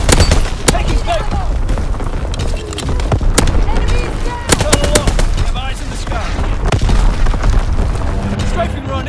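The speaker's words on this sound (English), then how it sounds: "Anti-aircraft bursts commence. Targeting enemy aircraft." Anti-aircraft artillery in Call of Duty: WWII, a domination match on the Shipment 1944 map, with loud rapid bursts and sharp cracks of gunfire in irregular volleys, layered over a busy battlefield din.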